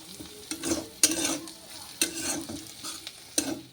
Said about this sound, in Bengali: ভাজাটা হয়ে গেছে ভাজাটা নামাই আর ঋতিকা বাবাকে ভাত দিই